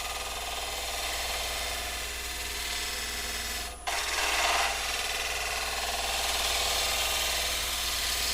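A wood-carving gouge brushed and rubbed across a wooden surface, producing a continuous close rasping scrape with a brief pause partway through.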